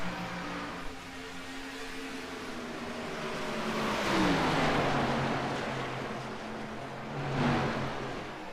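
Stock race cars in a racing video game at Texas, with an Xfinity Series field that includes the number 33 machine, giving a continuous droning engine roar that swells and fades as cars pass, and no voices.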